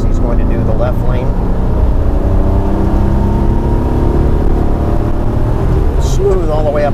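Porsche 914 engine pulling steadily under acceleration while driving on a road, a loud continuous drone with rising tone and road noise throughout.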